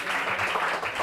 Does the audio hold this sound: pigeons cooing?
no